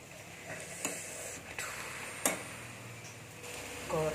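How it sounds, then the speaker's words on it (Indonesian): Tempeh fries in a pan with a continuous soft sizzle, broken by scattered sharp pops and ticks. "Goreng tempe."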